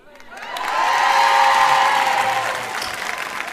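Audience applause that swells quickly into a dense, sustained clapping with some cheering, then slowly tapers off.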